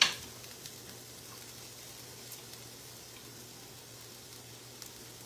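Two eggs sizzle in a pan for stir-fried rice, a quiet steady frying hiss with a brief clatter at the start and a faint low hum underneath.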